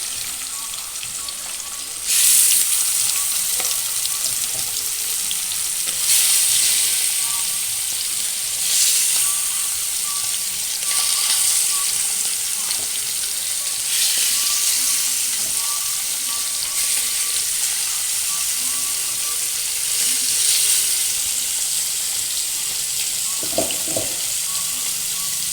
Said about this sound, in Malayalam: മീൻ വറുക്കുകയാണ്. അതിൽ വെളിച്ചെണ്ണ ഒഴിച്ചിട്ടുണ്ട്.